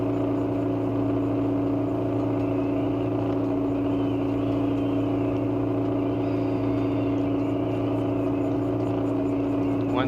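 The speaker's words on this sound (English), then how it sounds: "Engines are going all out." Ship engines running at full power in the eSail sailing simulator game: a loud, steady low droning hum with strong tonal bands, constant for the whole stretch with no variation.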